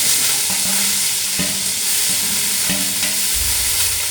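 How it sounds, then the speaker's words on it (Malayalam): Sliced onions fry in hot ghee in a pan with a dense, continuous sizzle, close and loud, broken by a few clinks and scrapes of stirring. "അതിനകത്തോട്ട് നമുക്ക് ഈ ഉള്ളി ഒന്ന് വറുത്ത് ചേർക്കാം."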